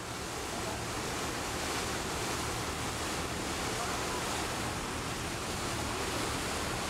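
Sea waves and rushing water heard from a fast-moving boat near Istanbul, a constant broadband wash with wind, even and unbroken throughout.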